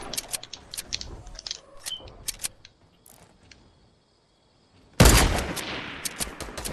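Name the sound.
sniper rifle shot in video game Fortnite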